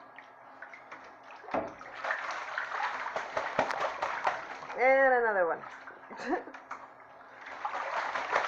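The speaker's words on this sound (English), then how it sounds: "I don't know if you guys can see the water spraying over here, but yeah, it's a lot." A pet goose bathing, with water splashing and spraying in bursts through the clip, close by and under frequent talk from a person nearby; a honk-like call rises briefly in the middle.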